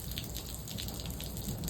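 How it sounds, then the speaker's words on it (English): Rain dripping off a roof as an Arizona shower winds down, a steady patter of drops over a constant wet background hiss, fairly quiet with no distinct loud hits. "it is just dripping from the roof, almost just finishing up."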